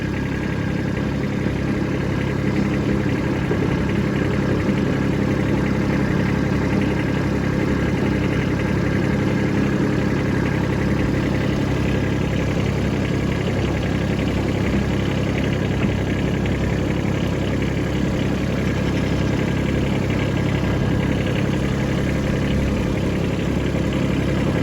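Kubota B2601 compact tractor engine running steadily in low gear on a snowy driveway, a constant close diesel drone with no breaks and no talk.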